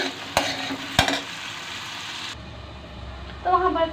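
Karonda berries and potatoes frying in a pan in a home kitchen, a soft steady sizzle with a couple of sharp scraping stirs of the spoon early on, then quieter frying with faint clinks of utensils.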